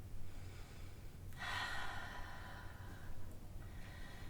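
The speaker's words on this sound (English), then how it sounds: "Taking a few full deep breaths here." Deep, slow breathing during a yoga pose, one long audible breath rising and falling at close range over a quiet room, with a softer breath following near the end.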